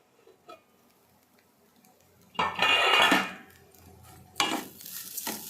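A lid set onto a pan of frying chicken gives a brief soft clatter early, then louder metallic scraping and a clanging rattle, each followed by a low frying hiss.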